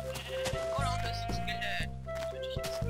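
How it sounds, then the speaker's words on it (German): Sheep in the Minecraft video game bleat several times in a row, loud and close, with steady game sounds and a voice talking over them. "Ich kill ein paar Schafe."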